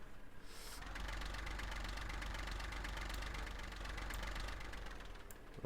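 A farm vehicle engine in Farming Simulator 15 runs at a steady idle, a constant mid-low drone with rapid knocking pulses, even and unbroken, with no talk.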